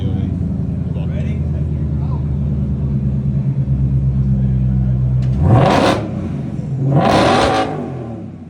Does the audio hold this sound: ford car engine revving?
yes